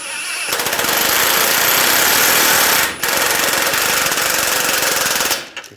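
Impact wrench rattling continuously while tightening the tie rod nut on a Ram 1500 front suspension, loud and close, with one brief pause midway before running again and stopping.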